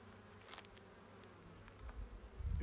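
Buckfast honeybees buzzing around a hive during a February check, a steady drone with a few louder passes near the microphone and a low thump at the end.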